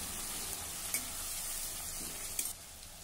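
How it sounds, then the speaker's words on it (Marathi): Chopped onion and kharda, a coarse chilli-garlic mix, sauté in a pan with a soft, steady sizzle, broken by a few brief scraping stirs near the start and end. "आता यामध्ये हा आपण केलेला खरडा घालू आणि हा खरडा देखील 2 मिनिटांसाठी परतून घेऊ"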